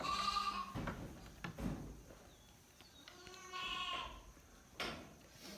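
A pygmy goat bleats during a morning milking session, with several wavering bleats, one at the start and others midway, heard fairly close against quiet barn noise and faint thumps.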